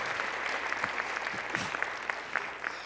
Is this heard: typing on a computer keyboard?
no